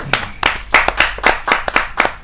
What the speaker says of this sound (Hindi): जोरदार तालियों से आमंत्रित कीजिए डॉक्टर जयसिंह आर्य जी।